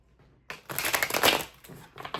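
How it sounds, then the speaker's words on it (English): A short burst of tarot cards being shuffled, a quick papery riffle close by, with a few softer rustles after. "Let me shuffle."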